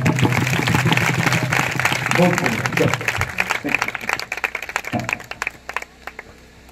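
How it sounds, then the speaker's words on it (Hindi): Worshippers at a Christian revival meeting clap along in bursts, with the clapping mixed into singing and voices and thinning out toward the end. "ताली मारो ना।"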